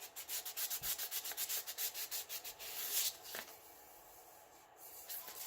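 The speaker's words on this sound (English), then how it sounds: "And now I feel all the way around as I'm working and spot sand any places" Quick rhythmic strokes of hand sanding rasp against a glitter tumbler, close and fairly soft, then slow into lighter rubbing.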